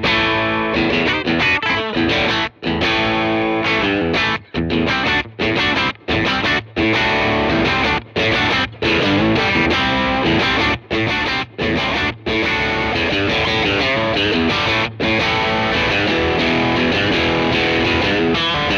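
Electric guitar played through a Fender distortion pedal, a dense, continuous wall of gritty chords with brief gaps between strums, loud and close throughout.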